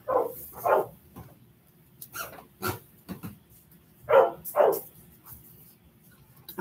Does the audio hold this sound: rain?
no